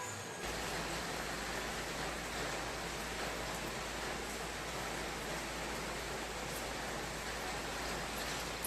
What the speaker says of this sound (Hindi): पता नहीं कब बंद होगी ये बारिश